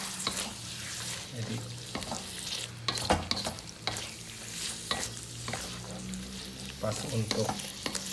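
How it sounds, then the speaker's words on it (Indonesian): About half a kilo of beef is stirred in spice paste while frying for rawon, giving steady scraping strokes over a soft sizzle, with a voice speaking briefly. "Terus diaduk-aduk supaya tidak kering ya, dan bumbu juga"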